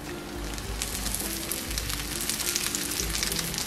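Oil sizzling steadily in a pan while jowar (sorghum flour) puris cook, a close, continuous crackling hiss with no pauses and no voices.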